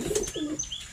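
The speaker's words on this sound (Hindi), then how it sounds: "कबूतर देखें दोस्तों," Pigeons for sale in Varanasi coo softly and close by, a few low cooing calls mixed with brief chirps, with no talking over them.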